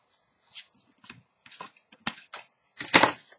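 A paper card template being trimmed for a Valentine's card with envelope: several short, crisp snips and crackling paper sounds in separate bursts, with the last burst the loudest, close by and without talk.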